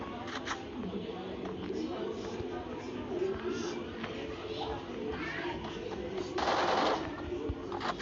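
MP5 gunfire in a Free Fire Clash Squad match crackles in quick bursts, a dense rattle of rapid shots under continuous game noise and a talking voice.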